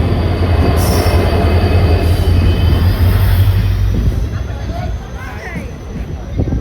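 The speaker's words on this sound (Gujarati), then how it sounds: "ટ્રેન આવી ગઈ છે" A train rolls into Sabarmati station with a loud, steady rumble and high metallic wheel squeals, then slows and quiets as people talk nearby.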